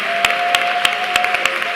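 A church congregation claps in praise, a dense wash of applause with sharp louder hand claps landing at fairly regular intervals while a sustained tone carries underneath.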